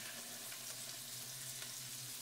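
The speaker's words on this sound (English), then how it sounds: "so they're frying up quite nicely" Crumb-coated chicken breasts fry in a hot pan, giving a steady, close crackling sizzle that runs without a break and with no voices.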